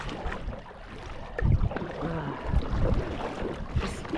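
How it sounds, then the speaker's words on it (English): A boat paddled back across the water near dark, with soft, close splashes of paddle strokes and gentle water movement against a quiet outdoor background. "Just paddling my way back."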